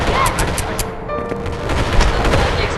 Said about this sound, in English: Use the explosive loadout. Use explosions, bro.